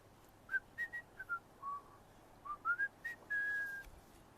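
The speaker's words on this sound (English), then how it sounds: "He whistled all the way." Someone whistles a simple tune alone: a string of short, clear notes in two phrases, ending on one long held note, close and moderately loud over a quiet background.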